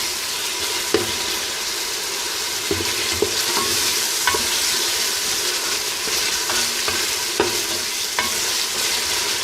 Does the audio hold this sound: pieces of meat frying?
yes